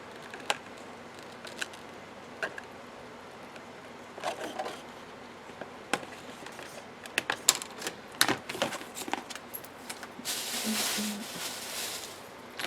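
A trimmer cuts a laminated sheet for a craft sticker storage book, giving sharp close clicks and slicing snaps scattered irregularly, ending in a brief rougher scraping burst.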